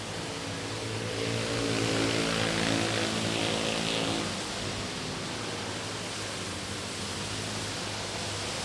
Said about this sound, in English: Final approach on an A321neo.